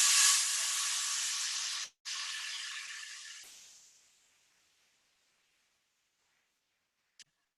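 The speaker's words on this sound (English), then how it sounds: "and you can hear it sizzle." Sauce hits a heated, oiled pan with a loud hissing sizzle that briefly cuts out, resumes, then fades away to near silence over a few seconds.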